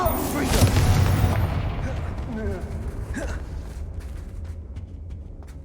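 A Confringo fire spell blasts in Hogwarts Legacy, opening with a loud booming burst that rumbles and fades over several seconds amid combat noise, with voices speaking over it.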